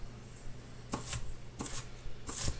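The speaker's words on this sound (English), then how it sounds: "just go over your onions like this" A knife chops onions on a cutting board in three short bursts of quick knocks, quiet and close.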